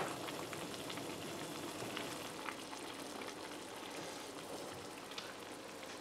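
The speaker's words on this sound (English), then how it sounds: "So that's why using such a big pan. All right, so we're going to let this simmer." A big pan of curry chicken with potatoes simmers with a faint, even sizzle and scattered soft pops, quiet and continuous with no other sounds.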